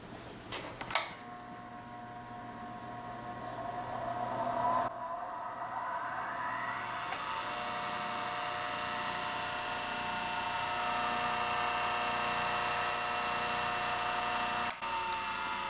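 A new Rikon bench grinder spins up after a click and settles into a steady, smooth, fairly quiet whirring hum that carries on evenly, with no talking.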